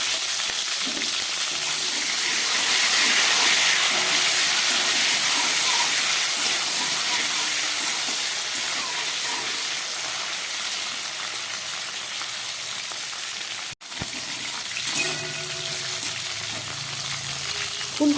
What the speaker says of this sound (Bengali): এই তেলের মধ্যে এবার দিয়ে দিচ্ছি আমি এই যে গরম জলে ভিজিয়ে রাখা ফুলকপিটা